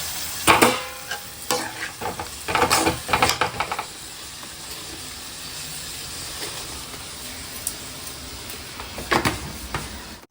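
Onions and tomatoes sauté in a pan with a continuous soft sizzle, punctuated by bursts of scraping and clattering stirring near the start and again near the end, close and without talk.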